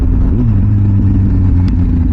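A Kawasaki Z800 inline-four motorcycle engine roars loud and close, its steady tone rising briefly as it is revved.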